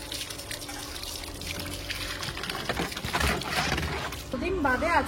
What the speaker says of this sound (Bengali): আর একদম জল দিয়ে ক্লিন করে নিচ্ছি।